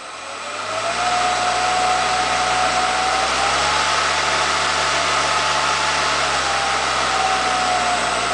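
A newly acquired three-phase electric motor, meant for a Craftsman table saw, runs slowly at 5 hertz with a steady, loud electric hum and whine that holds constant throughout.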